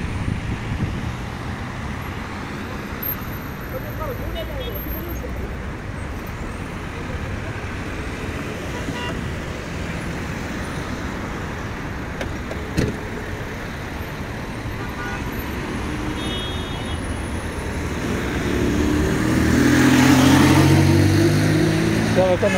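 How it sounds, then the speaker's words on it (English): Road traffic on a street in Morocco, a constant roar of passing cars and trucks with occasional horn toots, growing louder as a vehicle passes close near the end. "look at all that traffic"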